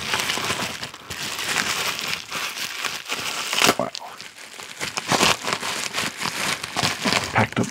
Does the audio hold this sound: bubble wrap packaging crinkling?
yes